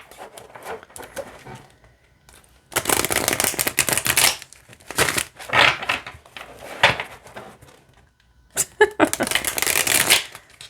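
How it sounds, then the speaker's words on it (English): A tarot card deck being riffle-shuffled by hand, bursts of rapid crisp fluttering card flicks separated by pauses and quieter handling rustles, close up with no talk. "let's see how this deck shuffles"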